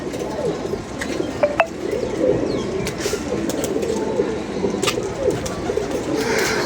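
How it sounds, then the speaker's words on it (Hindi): Pigeons coo softly in a loft, low throaty burbling calls repeating close by over a steady background hum, with a couple of sharp chirps early on and no talking. "अभी ये कबूतर देख के ना"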